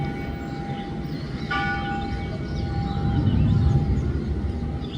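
A church bell rings on a Sunday morning at a church in Thiruvananthapuram. Its sustained, tonal strike sounds in the distance over a steady, loud rumble of outdoor ambience that swells midway.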